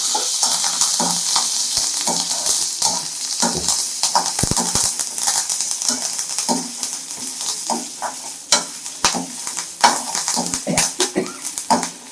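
Ingredients fry loudly in a pan for nethili karuvadu kuzhambu, a dried anchovy curry with mochai beans and drumstick. Continuous close sizzling is broken by frequent scraping stirs of a spoon against the pan, with no talk.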